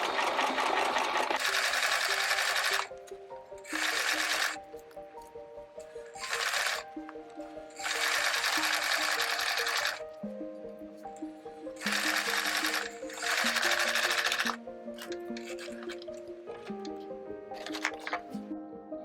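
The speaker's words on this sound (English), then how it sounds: "if you just have a domestic machine that has a zigzag, how to finish your edges so that these don't fray" A domestic sewing machine stitches a zigzag along the edge of an Azumabukuro bag, its motor whirring in loud bursts of a few seconds each, separated by short pauses and softer handling noises.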